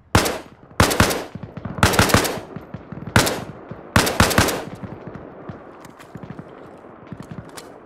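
Rapid automatic gunfire in the military shooter Arma Reforger, five loud, tight bursts in the first half followed by scattered fainter distant shots, with no talk.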